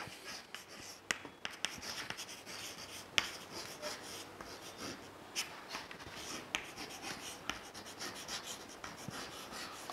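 Pen scratching as notes are written during a Class XI political science lesson, a continuous close scraping with frequent small taps and strokes that goes on throughout without talk.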